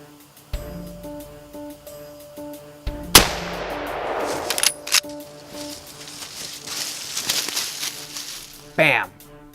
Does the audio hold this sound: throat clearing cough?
no